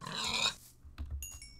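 Pigs in Minecraft grunt in a few short, snuffling bursts, close and fairly quiet, separated by brief pauses, with no talk over them.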